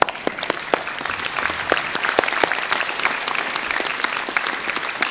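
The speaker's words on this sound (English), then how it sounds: "would you please stand and applaud the staff on stage?" Graduates stand and applaud the staff on stage at a Massey University graduation ceremony in Auckland, a steady, dense wash of clapping from a large seated crowd with sharp individual claps standing out near the microphone.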